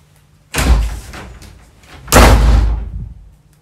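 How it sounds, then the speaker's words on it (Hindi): A door slammed hard twice in a home, each a loud, booming crash that lingers briefly, about a second and a half apart, with no talk. "क्यों रहे दरवाजे पटक पटक के मार रहे हैं"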